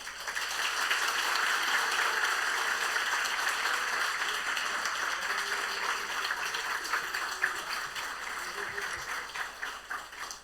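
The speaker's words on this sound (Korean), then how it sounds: "더 큰 박수와 환호성까지 지르면 시험 드실 분이 있으려나?" A church congregation at a Sunday service claps steadily, with some cheering, to welcome a visiting speaker. The applause holds at an even level for about ten seconds and tapers a little toward the end.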